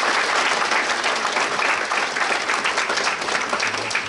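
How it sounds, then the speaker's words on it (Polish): A theatre audience at a children's folk song and dance ensemble anniversary show claps steadily and loudly throughout, with a dense, even sound and no talking. "wielkie, wielkie brawa, należą się"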